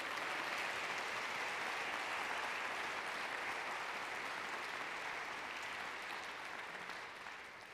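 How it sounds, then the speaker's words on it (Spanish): A church congregation claps hands together in praise, a dense, steady wash of applause lasting several seconds that eases slightly toward the end, with no talking over it. "Dele una alabanza de palmas al Señor."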